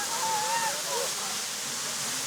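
Water slides down a dam in Ranchi in summer with a steady, loud, broadband rushing roar, and a faint voice rises briefly over it.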